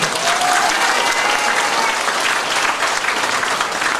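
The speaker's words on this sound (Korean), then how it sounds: "큰 박수 한번 주시오" A large crowd at a Korean party rally breaks into loud, dense applause that stays steady throughout, with scattered voices faintly under the clapping.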